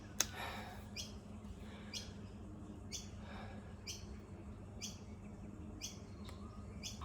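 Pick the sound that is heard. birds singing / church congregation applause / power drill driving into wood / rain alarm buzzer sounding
birds singing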